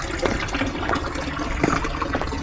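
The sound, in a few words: small streams of running water at a villa garden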